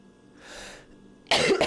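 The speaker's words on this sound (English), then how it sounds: "I apologize for my coughing." A person coughing during a horror observation game session: a brief, loud, close burst of coughs at the end, preceded by a quieter breathy sound.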